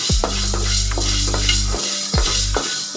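Black peppercorns dry-roast on a low flame for homemade sambar powder, a steady dry sizzle with the rattle and scrape of stirring in the pan, plus a recurring low hum, all close with no voices.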